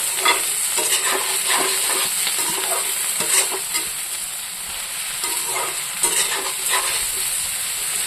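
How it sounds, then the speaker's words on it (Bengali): Eggplant frying with onion in a pan, a steady close sizzle with repeated scraping stir strokes every second or so, alone without voices. "এটার সাথে দিয়ে দেবো এই যে বেগুন, একসাথে ভাজবো"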